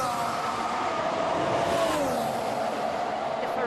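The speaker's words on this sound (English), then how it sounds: "The Ferrari of Kimi Raikkonen comes towards us now." A Ferrari Formula 1 car with a turbocharged V6 engine at a pit lane exit during Bahrain testing, a steady loud whining engine drone whose pitch bends downward as it approaches, filling the whole moment.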